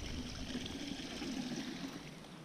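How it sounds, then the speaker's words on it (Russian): Water trickles and drips steadily from a lifted fishing net made from a sugar sack after catching loach, a soft continuous dribbling close by with no talk. "Сейчас вода стечет."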